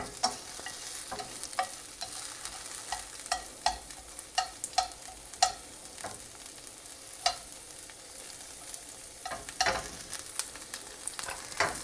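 Chopped napa cabbage core sautés in a pan with wild fennel, a soft steady sizzle under frequent light spatula taps and scrapes, close but fairly quiet, with no voices.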